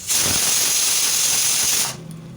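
A pressure cooker vents steam in a loud, steady, close hiss that holds for about two seconds and then cuts off abruptly, leaving a quieter background.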